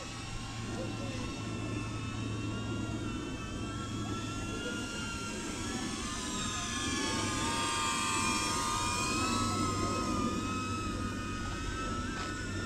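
A small DJI Neo drone flies overhead outdoors, giving a continuous, fairly loud high-pitched buzzing whine that wavers in pitch as it maneuvers, over a steady rushing background.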